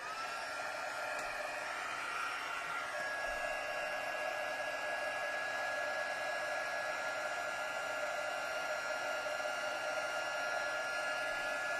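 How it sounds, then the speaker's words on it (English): A heat tool blows steadily for embossing powder on a crafting stamp project, a constant airy whir held near and moderately loud without pause. "Okay, heat tool, here we go."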